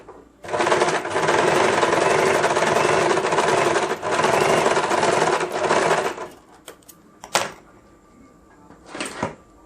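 A sewing machine runs steadily stitching blouse fabric for several seconds with a brief pause, then stops, followed by a few sharp clicks and knocks of handling.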